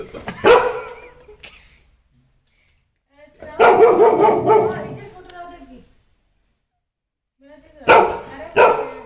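A dog barks at its own reflection in a mirror, giving three loud, close bursts of barks and yips separated by pauses, with a person speaking between them.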